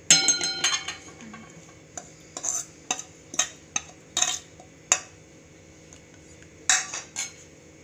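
Bhaji vegetables being mixed with spices in a pan, a utensil scraping and clinking against the metal in irregular close strokes, some sharp knocks standing out, with no voices.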